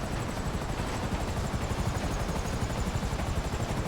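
Helicopter in Grand Theft Auto V, a steady loud rotor chop with dense low thumping and a constant high whine, running throughout without speech.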